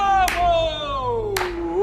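In a short film set among prisoners, two sharp, close hand claps about a second apart cut through a drawn-out, sliding voice heard throughout.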